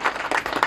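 Applause greeting new members joining a political party at a village gathering, a brief burst of clapping from a crowd that rises and falls in short waves.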